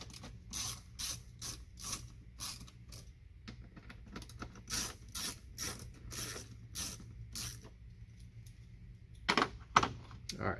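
A ratchet loosens 7mm screws in quick, rhythmic bursts of sharp clicking. The clicks are close and repeat in a steady series with brief pauses between strokes.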